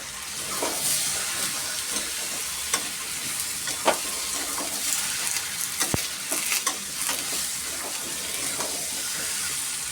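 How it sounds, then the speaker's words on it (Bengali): Curry with green chillies sautés in a pan with a steady, bright sizzle and hiss, broken by a few sharp clinks and scrapes as it is stirred. "ভালো করে কষে নিয়ে জল দেব।"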